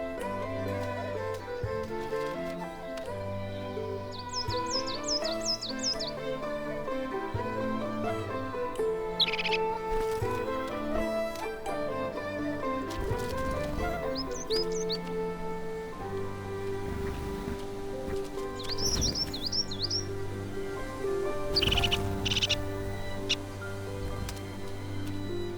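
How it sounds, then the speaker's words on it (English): Coal tits and crested tits calling in Scottish Highlands woodland, with several short bursts of high, thin chirps scattered over a steady, busy background. "Coal tits will raid crested tit caches."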